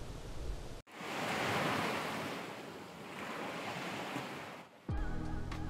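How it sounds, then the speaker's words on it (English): Ocean surf breaking on a beach at a Punta Cana oceanfront resort, a steady loud wash of waves with some wind, briefly cut off near the start and end. "Got that beautiful beach"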